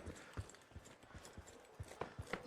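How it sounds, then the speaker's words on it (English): Rapid footsteps in the competitive shooter The Finals during a world championship grand final, a run of short thumping steps spaced a few tenths of a second apart, fairly close, with faint higher clatter over a low background. "Trying to minimize their own footsteps."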